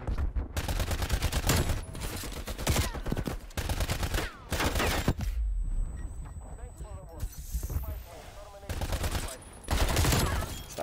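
Bursts of rapid video game gunfire crackle in repeated volleys, loud and close, with brief gaps and a short quieter stretch midway, while players chatter over the shooting.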